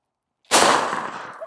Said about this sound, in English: Next up, we have some 12 gauge buckshot coming out of my 590 SBS.